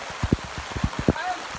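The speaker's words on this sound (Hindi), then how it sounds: "40 मिनट तो हम ऐसी बारिश में नहा रहे हैं" Heavy rain pours in a steady hiss while people talk over it close by, their voices rising above the downpour throughout.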